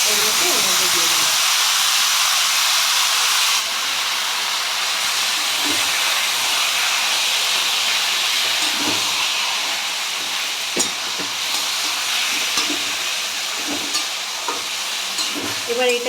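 Boiled taro greens hit a hot pan for a hilsa fish head dish and sizzle loudly and steadily, with a hissing steam wash and scattered stirring scrapes and clinks throughout.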